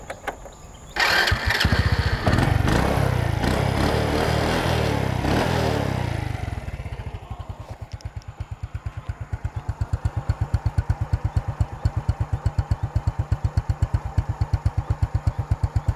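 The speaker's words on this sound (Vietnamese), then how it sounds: "bô nổ hay cả nhà" A Honda Wave Alpha motorcycle with an original engine starts with a loud revving roar, then drops to a fast, even putter at idle that keeps ticking steadily, close up with no talk.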